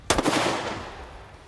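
A single loud handgun shot fired during concealed carry draw practice, a sharp close crack followed by a short decaying echo.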